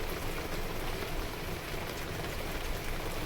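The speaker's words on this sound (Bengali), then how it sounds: "এরকমই বৃষ্টি হচ্ছে, 5-10 মিনিট জোরে বৃষ্টি আসছে" Steady rain falling during the monsoon season, near a rural pond, a dense, even hiss of drops on surfaces that holds unbroken and loud for the whole stretch with no voices.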